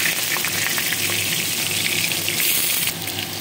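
Steady, close sizzling of potatoes and nigella seeds frying in hot oil, a continuous crackling hiss with faint stirring, no talking.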